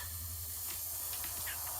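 An airbrush spraying white paint at full pressure onto a Necron miniature gives a brief, steady hiss of air, close and fairly quiet.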